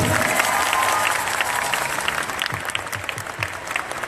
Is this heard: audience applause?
yes